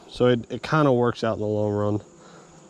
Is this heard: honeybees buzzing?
yes